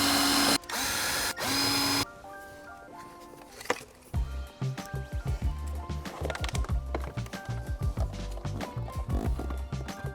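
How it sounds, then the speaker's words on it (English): A power drill screws 10mm bolts back in during a car amplifier reinstall: three loud bursts of whirring at the start, then a string of rapid clicking, ratcheting taps and knocks close by. "all we have to do now is screw those 10mm bolts back in"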